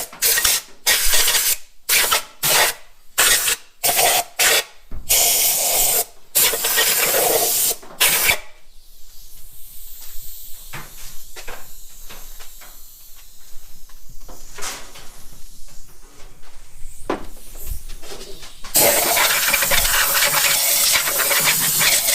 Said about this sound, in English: I'm just going to take some compressed air and blow any dust out of the cylinders